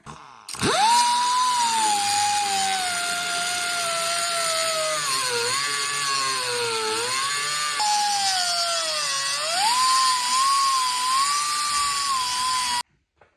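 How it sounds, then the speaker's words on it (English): A die grinder fitted with a small cutoff wheel cuts through a bolt head under a 1994 Ford F-250 during transmission removal, a loud, steady high-pitched whine that holds for about twelve seconds, dipping and rising in pitch as the wheel loads and frees, then cuts off. "A die grinder and a little cutoff wheel works way better, way quicker. So I'm gonna get under there and cut that bolt head off."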